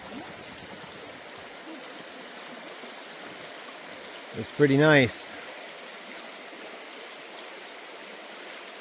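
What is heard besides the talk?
Dismal Creek stream flowing toward a waterfall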